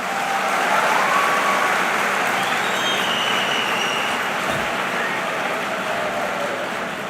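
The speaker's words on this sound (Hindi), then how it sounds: "देखो, ताली बजाई है तुमने" A crowd claps steadily for several seconds, loud and dense, the applause fading slightly toward the end.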